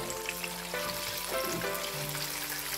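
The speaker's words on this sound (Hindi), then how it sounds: "देखते हैं हमारे चाम्प्स कितने अच्छे फ्राई हो रहे हैं।" Lamb chops frying in oil in a kadhai over medium heat, a soft continuous sizzle with gentle bubbling and a few faint clinks, close and steady, no talking.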